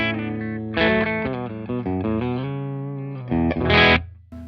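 An electric guitar through a cranked Bad Cat Black Cat 30 valve amp, giving thick, distorted notes and chords played in a short phrase that ends on a ringing, sustained chord.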